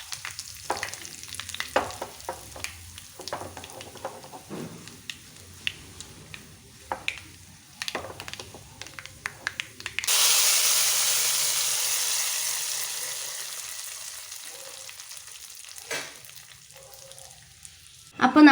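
Curry leaves and dried red chillies hit hot oil for green gram curry, giving a sudden loud hiss that fades slowly after earlier scattered clinks and stirring, with brief talk in the background.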